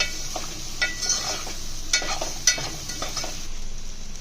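Cut okra pieces tossed and stirred in a frying pan while making okra pulusu, giving a steady background sizzle with several sharp clinks and scrapes of a utensil against the pan at irregular intervals.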